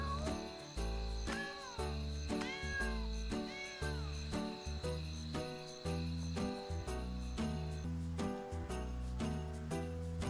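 A pet cat in the Revelation online game meows repeatedly in short, rising cries over a steady, rhythmic musical backing, loud and close, with no speech.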